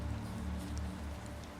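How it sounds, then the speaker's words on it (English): Steady rain falls in the video game Planet Crafter, a soft, continuous patter with a low rumbling bed and a few brighter drops, unbroken for the whole stretch. "It's raining now."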